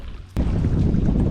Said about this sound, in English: Well, it's pretty windy